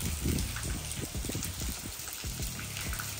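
Monsoon rain pours steadily near Amboli, pattering close by with scattered heavier drops, with no voices.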